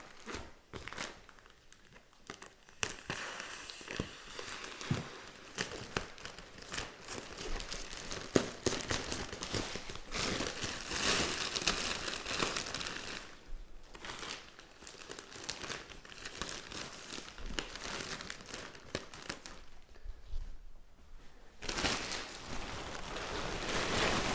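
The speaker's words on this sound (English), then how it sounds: "Now the minute I cut the remaining plastic, this whole thing should just puff up." Plastic wrapping is cut and pulled off a boxed DLX Latexlux latex mattress, giving a long run of loud, close crinkling and tearing with brief pauses and no speech.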